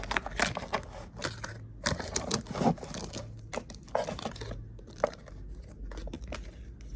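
Tarot cards being shuffled by hand, a close, steady run of crisp papery riffles and soft clicks that continues throughout without talking.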